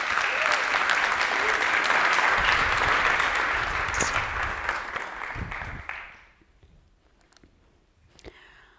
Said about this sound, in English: welcome her with big applause